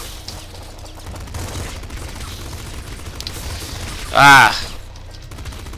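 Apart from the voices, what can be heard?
pop gun firing in Nuclear Throne video game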